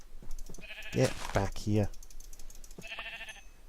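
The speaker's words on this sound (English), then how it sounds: "Now I'm going to slaughter me some sheep." Sheep bleating in the Minecraft Hexxit modpack, a few short synthetic bleats in quick succession, mixed with keyboard clicks and someone speaking briefly over them.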